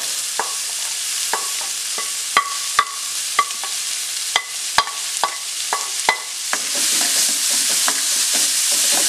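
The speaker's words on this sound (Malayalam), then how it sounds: "ഇനി ഇതിലേക്ക് കൊത്തി അരിഞ്ഞ് സവോള ഇട്ട് കൊടുക്കുക." Chopped onions, two medium ones, sautéing in a pan for jackfruit cutlets: a steady sizzle that grows fuller toward the end, broken by frequent sharp clicks and scrapes of a spoon stirring against the pan.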